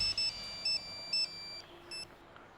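Electronic telephone ringtone in a police office drama, repeating short high-pitched tonal bursts in an even rhythm, moderately loud over a quiet room hum.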